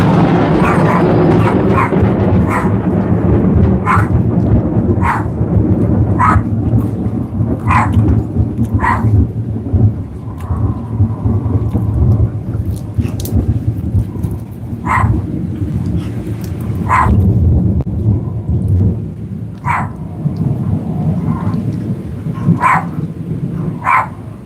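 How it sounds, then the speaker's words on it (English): Thunder from lightning during a thunderstorm, deep rolling rumbles over steady rain, while a dog barks repeatedly in short sharp bursts throughout; little talk is present. "Ooh, lightning."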